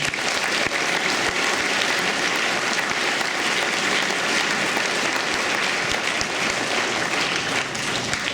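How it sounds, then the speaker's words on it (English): A large audience at a high school Veterans Day assembly applauds a veteran, producing a continuous, even wash of loud clapping that holds steady for the whole stretch. "So let's give him a round of applause."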